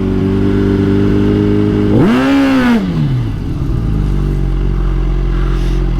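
A 2022 Suzuki Hayabusa launches at the MIR quarter-mile dragstrip, its engine droning at idle and then sweeping up into a loud, close rev before dropping back to a steady rumble.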